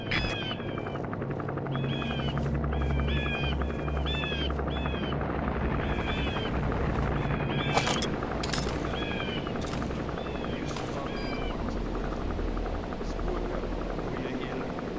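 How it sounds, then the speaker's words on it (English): A helicopter lands in Metal Gear Solid V: The Phantom Pain, a steady low rotor drone running throughout beneath busy chirping ambience and occasional sharp bursts. "There's a chopper landing."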